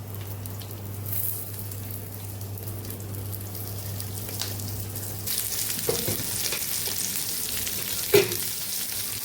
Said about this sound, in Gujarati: હવે આપણે ભીંડાનો વઘાર કરવાનો છે